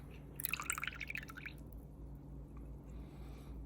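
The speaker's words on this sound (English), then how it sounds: "In goes the cream." Pure cream is poured into a bowl for butter making, a brief wet splashing and glugging near the start that quickly settles, close and quiet with no speech.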